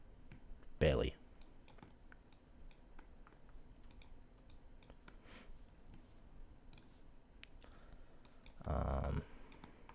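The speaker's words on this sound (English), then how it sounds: "Sorry, I'm doing a whole lot of clicking." A computer mouse clicks repeatedly at a trading desk, sharp faint ticks scattered across the span, with two louder bursts of a man's speech at the start and near the end.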